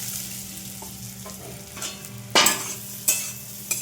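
Sabudana (tapioca pearls) frying in ghee, a steady close sizzle with sharper stirring scrapes and clinks breaking through near the end.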